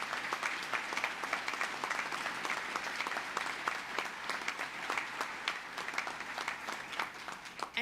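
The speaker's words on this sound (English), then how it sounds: "let's give the parents, the families, the grandparents, and everybody a huge round of applause" Sustained applause for parents and families at a New York State Police Academy graduation ceremony, a dense, steady clatter of many hands clapping across a large room for the full length.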